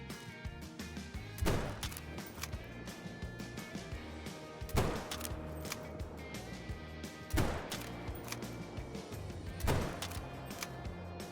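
Hunting rifle shots at a gray fox in the Call of the Wild hunting game, four sharp loud cracks spaced a few seconds apart over a steady ambient outdoor background.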